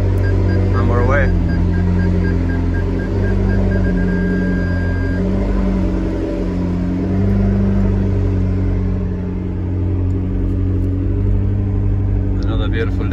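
McLaren 650S Spider sports car driving, a loud, steady engine drone with a smooth rise and fall in pitch as it pulls along, heard from inside the cabin with a voice speaking over it.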